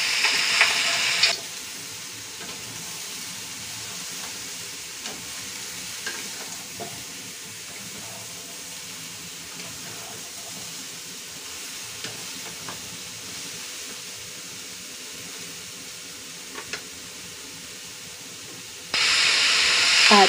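Braised pig trotter with dried bamboo shoots is stirred in a hot pan, a steady hissing simmer with occasional spoon scrapes, louder bursts of sizzle at the start and end.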